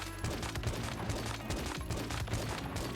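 Rapid bursts from the Jaws gun in the survival shooter Once Human, a weapon that fires ink-blot projectiles and explodes now and then; dense, steady rhythmic firing with sharp cracks continues loudly across the whole stretch, with no voices.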